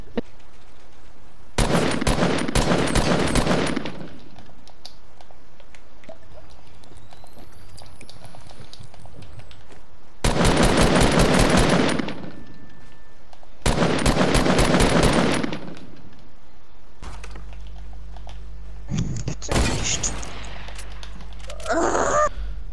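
Bursts of rapid automatic gunfire in Fortnite come in three loud, separate volleys of a couple of seconds each, with quieter game sounds and a low hum between them.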